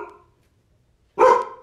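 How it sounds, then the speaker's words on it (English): A dog barks once nearby, a single loud close bark indoors during a supported bridge pose yoga session, with a faint tail of sound before it and quiet between. "Feel my dog barking a little."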